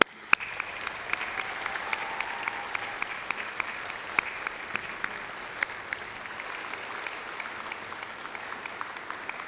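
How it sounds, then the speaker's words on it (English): An audience at a university graduation ceremony applauds the graduands' families with sustained clapping. Sharp individual claps stand out above a dense, steady wash of applause that holds at an even level and continues the whole time. "Please join me in a massive round of applause for them."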